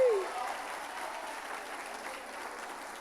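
A church congregation applauding during a family worship service, a broad steady wash of many hands clapping, with a brief sung or spoken tone fading at the very start.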